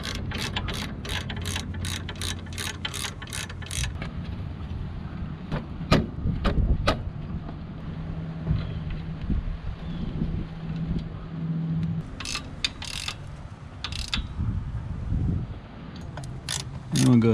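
Crash bar bolts being tightened by hand with a 7/32 tool on the frame of a Harley-Davidson Road Glide Special, giving rapid repeated ratcheting clicks in bursts, close and fairly loud over steady low background noise.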